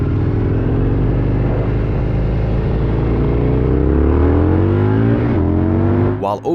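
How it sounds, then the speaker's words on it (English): A motorcycle engine roars loud and close while overtaking, its pitch climbing steadily as the bike speeds up and goes into a speed wobble, then breaking off abruptly near the end with a clattering burst. "biker gets into speed wobble and crashes."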